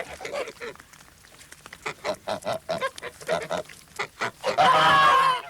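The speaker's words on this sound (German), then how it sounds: "Die Gänse schnattern." Geese cackle in a fast run of short, nasal calls, then one longer, louder honk at the end, close by and without speech.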